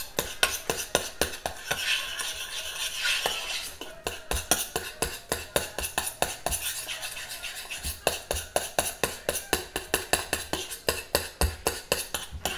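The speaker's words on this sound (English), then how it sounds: "And I'm gonna stir that." A spoon stirs thick strawberry chia seed jam in a pan, producing a steady run of close, rhythmic scraping and clinking strokes that continue throughout without talk.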